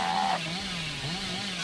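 The Hillbilly's chainsaw in Dead by Daylight roars in a loud, buzzing rev that dips briefly and surges again, sustained and close without speech.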